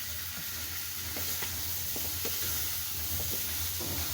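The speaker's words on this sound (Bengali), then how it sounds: "সিদ্ধ করে নিয়ে পেঁয়াজ ভাজা দিয়ে দিলাম পুঁই শাকের মধ্যে" Fried onions sizzle steadily in a pan as they go into a Malabar spinach dal, a continuous close hiss broken by a few soft stirring clicks.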